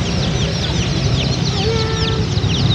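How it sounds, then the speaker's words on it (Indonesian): Baby chicks cluck and peep continuously close by while being fed cooked rice, a busy overlapping chatter of small birds with no talking. "Cila lagi kasih makan ayam"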